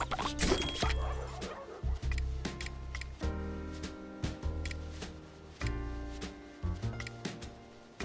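Dogs bark and yip in short bursts in the Poképile video game, heard among sharp clicks, chimes and game sound effects over a steady musical backdrop, with no talk.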